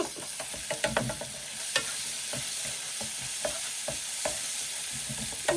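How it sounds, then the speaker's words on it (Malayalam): Chicken chilli masala is stirred as it fries in a pan, with a soft continuous sizzle under scattered sharp scrapes and clinks of the utensil against the pan. "നല്ലപോലെ ഇളക്കി കൊടുക്കണം."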